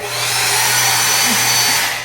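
A hair blower runs in a four-star Manila hotel bathroom, giving a steady, loud whirring rush of motor and airflow with a constant hum beneath, heard close up and with no talking.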